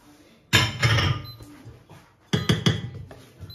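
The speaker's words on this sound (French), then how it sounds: "Je remue bien." Choux pastry dough is stirred in a saucepan off the heat after adding flour, making two bursts of close knocking and scraping of utensil against pan with a short quiet gap between.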